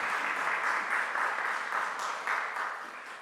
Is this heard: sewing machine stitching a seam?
no